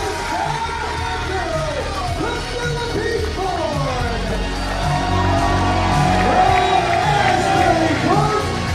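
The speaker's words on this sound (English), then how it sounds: "Outstanding ovation for Joey Janela." A big wrestling crowd at White Eagle Hall, a packed Game Changer Wrestling show, rises in a sustained standing ovation, with loud yelling, whooping and cheering rolling on throughout and swelling slightly toward the end.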